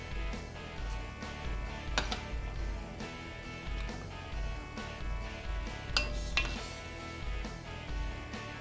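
A spoon scrapes and presses tomato sauce through a metal sieve set over a bowl, giving soft rubbing strokes broken by a few sharp metallic clinks of utensil against mesh and rim, close and fairly quiet.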